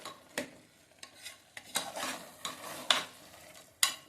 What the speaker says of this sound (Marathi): छान सगळं असं हलवून घ्यायचंय.